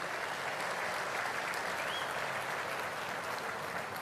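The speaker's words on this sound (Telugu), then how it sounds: "గట్టిగా చప్పట్లు కొట్టి అభినందించండి" An audience at a formal public function honoring a Union minister applauds in a steady, even patter of many hands, sustained and fairly faint, as if heard from a distance.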